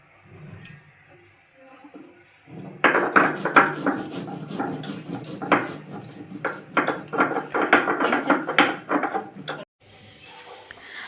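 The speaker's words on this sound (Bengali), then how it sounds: "আর এদিকে আমি জিরে, আদা আর কাঁচা পাকা লঙ্কা শিলে বেটে নেব।" A stone pestle grinds cumin, ginger and green and red chillies on a flat grinding stone while a banana flower dish is prepared, making rhythmic scraping and knocking strokes, close and fairly loud, in a steady run of about a dozen strokes.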